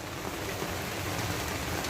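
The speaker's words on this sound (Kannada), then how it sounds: "ಮಳೆ ಹೊಡಿತಿದೆ" Steady, even rain hiss fills the whole stretch, a constant wash of falling drops with no voices.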